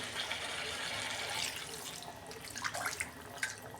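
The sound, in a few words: pouring water into cooking chicken curry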